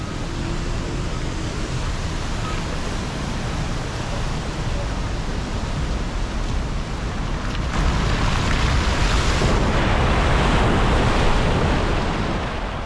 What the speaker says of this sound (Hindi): अभी आपने देखा कैसे गाड़ी पानी में से गुजरी है